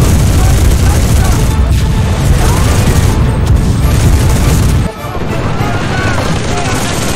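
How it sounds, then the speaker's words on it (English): An MG 34 machine gun with a drum magazine fires in the World War II shooter game Enlisted, a loud, dense, nearly unbroken barrage of shots and booming impacts that dips briefly near the end before resuming. "Get that machine gun firing!"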